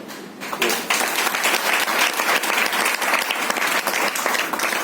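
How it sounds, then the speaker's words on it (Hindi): Strong applause from a large audience during a spiritual discourse, starting abruptly after a brief lull and continuing as a dense, even roar of clapping. "ये तालियां जो व्यासपीठ तक पहुंची हैं"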